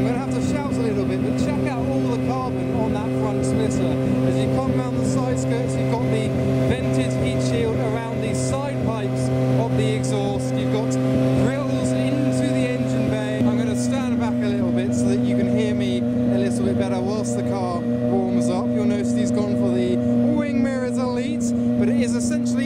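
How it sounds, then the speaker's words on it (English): An Aston Martin V12 race car engine idles after a cold start, warming up with a steady, loud, harmonic drone that holds evenly throughout, while people talk over it. "We're just going to start up, let it warm up a little bit because it hasn't been started in quite a while."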